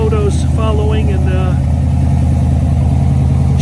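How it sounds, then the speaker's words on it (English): A car engine idles just after a cold start, a steady low rhythmic rumble throughout, with a voice speaking briefly over it at the beginning. "Car started up nicely cold."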